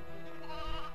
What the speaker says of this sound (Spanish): Y acá está la primera oveja.